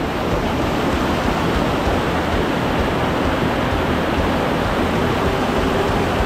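Loud, unbroken roar of rushing water from Kalu Waterfall in Maharashtra, a dense steady wash of noise with no voices.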